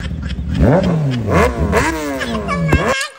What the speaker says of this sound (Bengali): দেখি স্টার্ট মারবো, স্টার্ট নেয় নাকি।